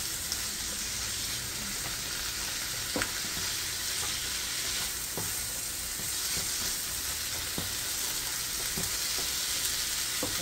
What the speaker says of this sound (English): I put olive oil for the saute.